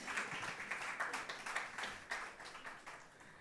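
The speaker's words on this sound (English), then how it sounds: "I thought the students would clap." Scattered applause from students in an audience at a fellowships and catalyst grants award ceremony, a dense patter of claps that rises early then gradually thins and fades over a few seconds, with no talking over it.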